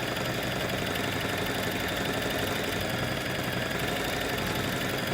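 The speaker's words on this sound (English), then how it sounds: "I didn't hear the machine make any different noise when you went through the thicker fabric" A Bernina sewing machine drives through thick stabilized fabric for a Kyoto bag, a close, loud, continuous motor hum and stitching rattle that stays even throughout.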